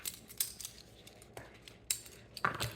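Colorful measuring cups and spoons are handled, giving a few sparse, light clicks and clinks spread across a quiet few seconds with no talking.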